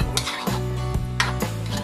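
A spoon stirs and scrapes inside a pot of pork caldereta stew in a few short strokes, set against steady background music.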